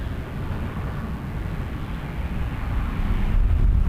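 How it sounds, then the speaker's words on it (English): Airbus A321 airliner climbing away after takeoff at Toronto Pearson Airport at night, a steady broad jet roar heard from a distance that holds level and swells slightly toward the end, with no talk. "this is an A321 to Calgary that's just taken off"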